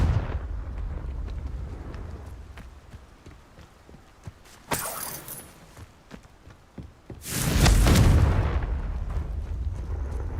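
A Confringo blasting spell bursts in Hogwarts Legacy, a loud booming explosion swelling up after a sharper crack earlier, over steady game ambience and footsteps with no talking.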